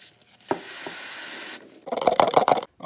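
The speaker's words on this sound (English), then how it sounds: "I'm just going to clean this whole diff up with some brake cleaner" Brake cleaner sprayed onto an RC car differential from an HBX Transit: a steady close hiss lasting over a second, then wet spattering and rubbing sounds as the part is cleaned, with no talk.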